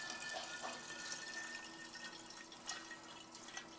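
Homemade apple cider vinegar is poured from one vessel into a container, a faint continuous trickle and splash with a thin high ring, steady for a few seconds with no talk over it.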